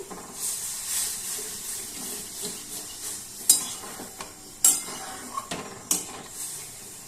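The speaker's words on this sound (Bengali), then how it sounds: "মশলা বাটি ধোয়া জল আমি দিয়ে দিচ্ছি" Water rinsed from a spice bowl pours into turmeric-coated spices frying in a pan, giving a bright watery sizzle with a few sharp clinks of a utensil against the pan; no one speaks.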